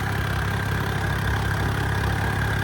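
A vehicle engine running steadily at over eighty km/h in third gear on a road trip to Anandpur Sahib for Hola Mohalla, a constant droning hum with road rumble and no break.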